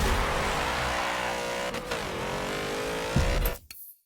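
A Porsche 906 engine screams at its red line above 7,000 rpm during a launch, a loud, sustained high rev with steady harmonics for about three and a half seconds before cutting off abruptly into near silence.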